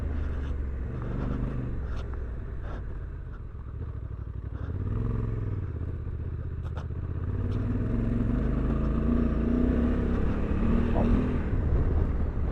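A 2024 Honda Africa Twin motorcycle being ridden, its engine a steady loud drone that rises and falls in pitch with the throttle, with wind rush throughout and a rider's voice partly mixed in.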